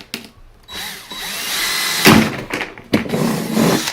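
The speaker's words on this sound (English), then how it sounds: "go ahead and drill a hole into the bucket" A power drill whirs up and bores a hole through a plastic bucket in a few bursts, loud and close, with brief pauses between runs.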